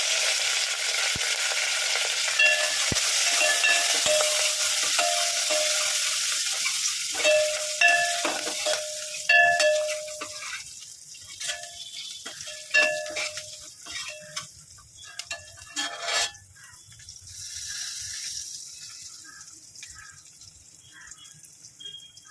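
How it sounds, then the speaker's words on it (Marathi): Garlic sizzles loudly in hot oil in a pan while dal is prepared, a steady close frying hiss that fades gradually, with light clicks of stirring near the end. "त्याच्यात आपण लसूण टाकून देऊ लसूण आणि टाकतो"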